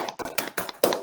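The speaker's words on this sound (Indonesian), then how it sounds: "Beri tepuk tangan untuk kelompok 1." A small classroom group claps for students who just presented their discussion results, a handful of sharp, separate hand claps in an uneven rhythm, close and fairly loud.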